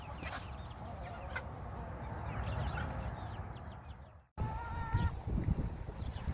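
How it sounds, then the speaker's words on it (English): Hens clucking and murmuring on a homestead flock, several close overlapping calls over a rustling background, briefly cut out before more clucks resume. "That one right there is the hen that has kind of taken over the responsibility of a rooster"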